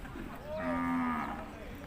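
Cattle moo once in a long, drawn-out, fairly close call at a cattle and buffalo market in Wang Hin district, Sisaket province, Thailand, with faint market background noise before and after.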